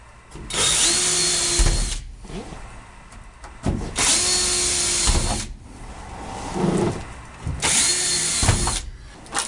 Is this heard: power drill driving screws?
yes